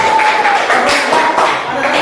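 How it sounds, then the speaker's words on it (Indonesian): A school class claps hands together on the teacher's cue, a lively burst of many small hands in uneven rhythm, fairly close and loud, with a faint held tone underneath. "tepuk tangan dulu semuanya."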